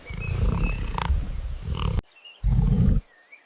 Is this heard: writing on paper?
no